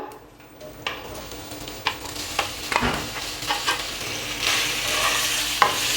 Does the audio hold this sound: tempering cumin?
yes